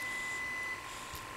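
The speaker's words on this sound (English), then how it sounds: "Do you hear the beeping?" Steady electronic reversing beep from a backing truck, a thin continuous tone running through the first half and then fading, faint and distant over quiet room ambience.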